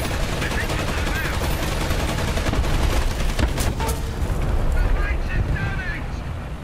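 Tank cannon fire from a T-72M1 in the War Thunder video game: a constant dense roar of engine and battle noise, with a short burst of sharp blasts near the middle, heavy and close, under a voice.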